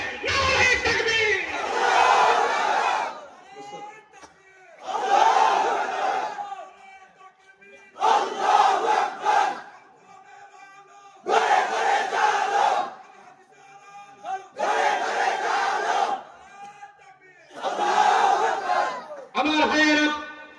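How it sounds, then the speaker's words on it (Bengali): A large gathering shouts the Nara-e-Takbir slogan in repeated bursts, seven loud rhythmic chants of massed voices roaring together, each separated by a short pause. "জোরে সোরে একটা তাকবীর হবে।"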